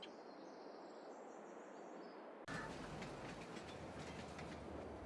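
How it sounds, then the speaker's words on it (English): A train pulls into a station in the video game Farming Simulator 22, a steady rumbling rail roll that turns louder and fuller partway through, with wheel clatter and faint high squeals, no voices. "Just like that, the train has arrived."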